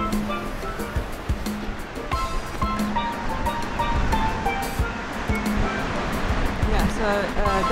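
Ocean surf breaks on a beach beyond the dunes in a constant, full wash of waves, with a person talking over it nearby.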